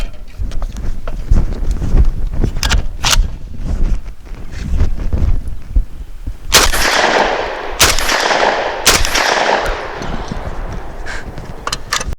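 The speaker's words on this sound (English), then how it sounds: "We have Federal Premium 2 3/4 inch 1 ounce 1300 feet per second slug" An SDS Lynx 12 3-gun 12-gauge shotgun fires Federal Premium 2 3/4 inch 1 ounce slugs outdoors, several loud sharp booms spaced a second or so apart over steady wind noise on the microphone.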